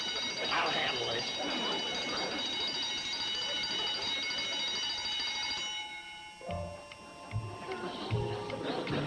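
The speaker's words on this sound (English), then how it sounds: "the alarm alerts us to the culprit that's trying to sneak in" An intruder alarm rings continuously in a lobby, a steady bright electric bell that sounds under speech and music for several seconds, then stops.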